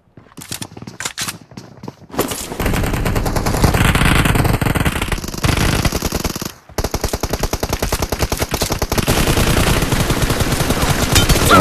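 Rapid automatic gunfire in a mobile shooter game crossfire, dense loud continuous rattling bursts after a few scattered shots, with one short gap midway before the firing resumes.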